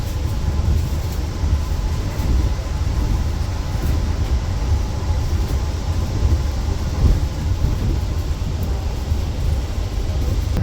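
An Argo Dwipangga New Generation train rumbles steadily along the tracks in Indonesia, heard from inside a stainless steel carriage as a constant low roar with faint rattles.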